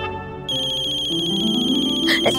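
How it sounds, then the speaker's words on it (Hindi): A phone ringtone plays a bright electronic melody, loud and continuous, with a brief voice near the end. "देवयानी बहन का फोन है।"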